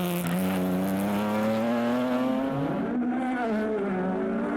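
A BMW rally car on a tarmac stage in Cork during the Irish Tarmac Rally Championship, its engine loud and close, revving high, then dropping briefly as it shifts or lifts before pulling again.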